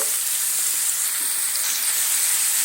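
Ginger-garlic paste and turmeric sauté in a pan, a loud, dense, continuous sizzle close up with no pauses or voices.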